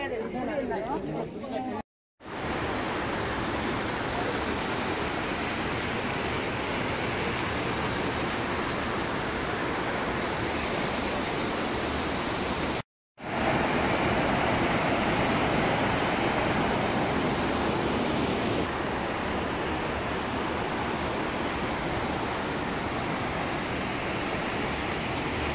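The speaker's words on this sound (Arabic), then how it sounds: "هذا نهر بولا الشهير هنا في البوسنة والهرزك" The Buna river in Mostar, Bosnia and Herzegovina, rushes steadily as a broad, loud wash of flowing water, with faint distant chatter mixed in.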